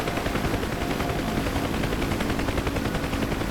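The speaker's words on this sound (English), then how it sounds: "You can hear gunshots." Rapid bursts of gunfire in the flight simulator DCS World during a UH-1H Huey pilot-rescue mission, a steady rattling stream of shots heard at moderate level under broad engine and rotor noise.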